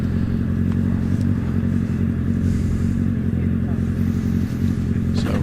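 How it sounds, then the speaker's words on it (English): A hillclimb race car idles before its launch at a countryside course, a loud, steady low engine rumble held throughout, with a commentator talking over it. "Revs ticking over."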